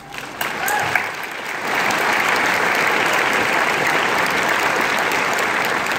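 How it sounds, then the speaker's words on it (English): Audience applause fills a law school commencement ceremony: clapping starts scattered, then swells into a dense, sustained roar of hands that holds steady throughout. "Let's give them a round of applause."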